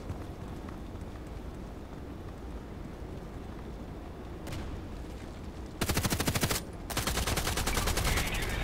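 Gunfire in the video game Contract Wars, heard as two dense bursts of rapid automatic shots in the last few seconds, following steady ambient game noise and a faint earlier shot.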